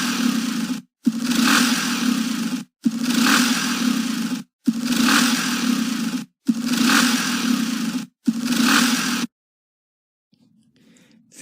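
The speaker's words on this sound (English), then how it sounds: "using SoundViewer to analyze a motorcycle rumbling noise at variable speeds" A motorcycle engine rumbles in six loud, steady bursts that are separated by short gaps, with its speed varying from burst to burst. The sound then cuts to near silence.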